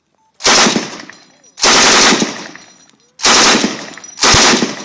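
Four loud, close bursts of automatic gunfire from a gun switched to fire mode, each a sharp onset that rings and decays before the next, with short gaps between.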